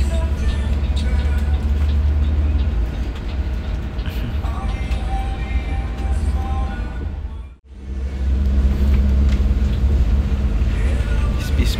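Bus pulling away from Ubung terminal in Denpasar, Bali, a steady loud low engine drone and road rumble running throughout, dipping briefly to near silence midway before the heavy rumble resumes.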